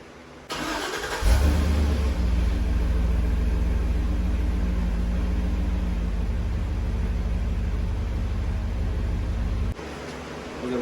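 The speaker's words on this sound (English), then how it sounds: "I'll start the truck up" A pickup truck engine cranks and catches, then settles into a loud, steady close idle with a deep rumble that runs for several seconds before cutting off, with no talking.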